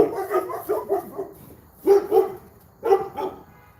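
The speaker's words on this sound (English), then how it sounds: "Don't be barking at my daddy." A Cane Corso barks outdoors, first a quick run of several deep barks, then two single barks about a second apart, loud and close.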